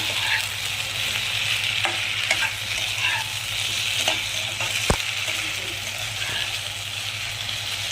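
Soybean chilli coloured with red chilli powder, made without chilli sauce, sizzles steadily in a pan. Soft stirring scrapes and one sharp knock near the middle sound over the frying, with no speech.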